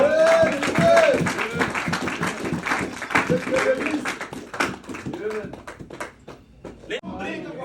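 A church congregation applauds in a sustained, dense patter of clapping while a voice keeps speaking and chanting loudly over it for the whole stretch.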